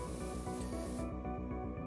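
A pressure washer in PowerWash Simulator blasts the ground with a loud, continuous hissing spray, its high hiss cutting out partway while a pulsing low mechanical drone keeps going.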